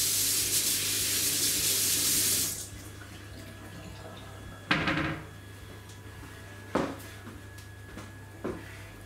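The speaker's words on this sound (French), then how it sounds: "on se lave les mains, c'est important" A kitchen tap runs hard into a sink as hands are washed for a couple of seconds, then shuts off, followed by a few scattered clunks and knocks nearby.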